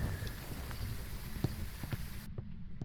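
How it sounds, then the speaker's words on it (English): Footsteps of a ghost in the video game Phasmophobia, a series of fairly loud, evenly spaced thudding steps over a constant background rumble, with no talk. "Its footsteps sounded pretty loud"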